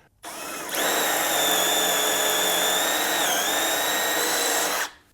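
Power drill spinning a Diablo Forstner bit into wood for log furniture, a loud steady whine that starts abruptly, holds for about four seconds with a slight dip in pitch, then cuts off.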